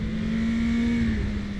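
A BMW M 1000 XR motorcycle engine drones steadily on a racetrack, a sustained loud hum at a near-constant pitch that dips slightly toward the end.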